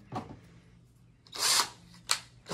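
Power drill fitted with a larger drill bit, heard in two short bursts of high whirring separated by quiet, with a faint click and rattle at the start.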